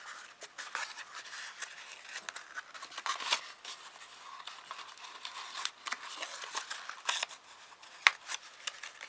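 Paper creased and folded inward while shaping an origami strawberry gives soft, close crackles and scrapes in irregular bursts, with one sharper snap near the end.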